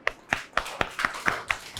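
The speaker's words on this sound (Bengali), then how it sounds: "সবাই হাততালি দাও।" A classroom of children clapping their hands in an even, steady rhythm of about eight sharp claps, close and fairly loud with no speech over them.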